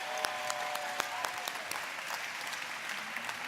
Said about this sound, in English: Let's send them out, the inaugural load, out into the community with a round of applause.